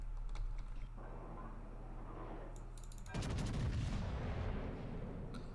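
Naval guns from a French battleship fire in World of Warships, a crackling burst of rapid sharp reports followed by a loud, heavy rumbling barrage swelling midway and sustaining to the end, with faint ambient tones beneath.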